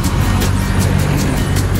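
Road traffic near Baguio heard from a bicycle on a solo ride, a loud continuous rumble of vehicle engines and tires close by with no pause.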